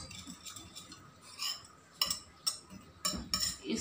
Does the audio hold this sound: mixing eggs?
yes